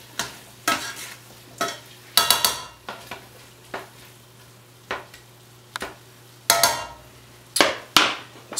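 Chicken tortilla soup stirred in a pot, with irregular bursts of spoon scraping and clanking against the metal over a low steady hum, roughly a dozen close strokes spaced apart, no speech.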